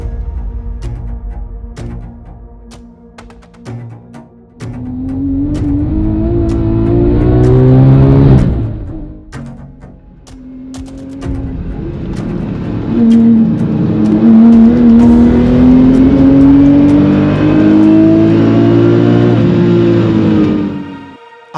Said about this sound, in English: in the background is one of the best naturally aspirated production engines ever made